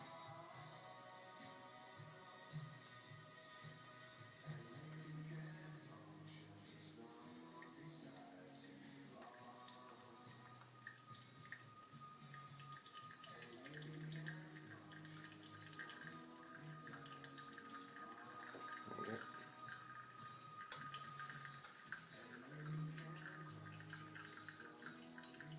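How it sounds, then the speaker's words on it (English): Hot water is poured over coffee grounds in a Chemex pour-over brewer, a soft continuous trickle and patter of liquid under quiet room tone, faint and close, with brief low voices at times. "pour a little bit harder to bring it up to 300 mils"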